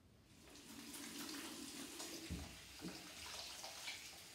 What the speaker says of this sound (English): I'm going to go wash my hands now.